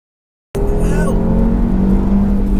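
A 440 BHP APR-tuned Audi RS3 launching hard from a standstill, engine roaring loud and close from inside the cabin as it pulls through steady rising revs.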